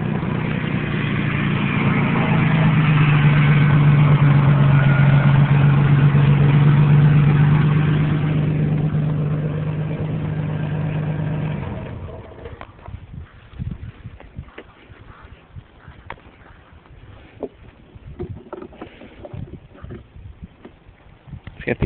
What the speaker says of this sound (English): Got a 3-valve V6 engine. Let's do a quick little run.